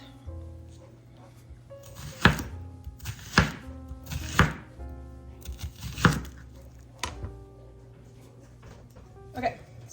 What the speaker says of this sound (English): cut up my onion